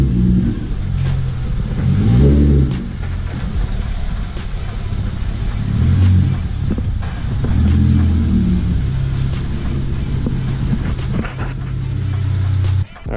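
A V6 Genesis Coupe's engine runs loud and close as the car pulls in, with a deep rumbling idle and several swelling revs before it cuts off abruptly at the end.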